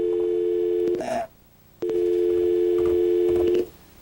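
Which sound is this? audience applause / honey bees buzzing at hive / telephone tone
telephone tone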